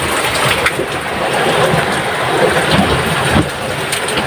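Heavy rain lashes a boat at sea with gusting wind, a loud, dense hiss that stays constant with brief surges and a sharp spike near the end.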